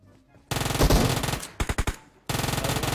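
Sniper gunfire in the mobile battle royale game PUBG Mobile on the Sanhok map, loud sustained game action followed by a quick burst of three or four sharp, close shots, then more dense noise.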